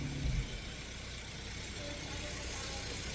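Engine of a 2024 Lexus IS350 fitted with an aftermarket exhaust, a steady idle drone after a brief louder blip at the start, heard close and continuous.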